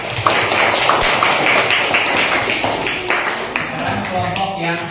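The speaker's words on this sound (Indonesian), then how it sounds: "Tepuk tangan dulu." Classroom clapping from students after a group presentation, a dense run of quick, close claps over several seconds with some voices mixed in.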